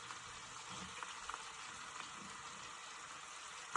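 Green beans sizzle and fry steadily in a hot pan for a Filipino vegetable adobo, a continuous crackling hiss with a few small pops and a sharper spatter near the end, no talk.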